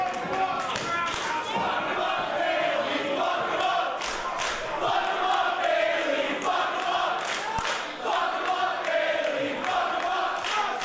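Wrestling arena crowd at a Bobby Lashley versus Mike Bailey match roars and chants steadily, a dense loud mass of voices with rhythmic swells and a few thuds throughout.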